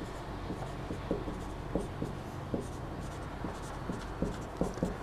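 Marker or chalk strokes on a board during a computer lesson, a run of short scratchy taps and squeaks in an irregular rhythm, close and clear over a steady room hum with no talking.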